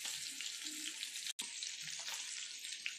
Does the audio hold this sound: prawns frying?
yes